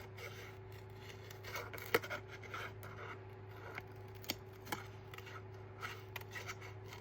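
Scissors snipping through paper while cutting around a flower shape in an art project, soft intermittent scratchy cuts and scrapes over a steady low electrical hum, close and fairly quiet.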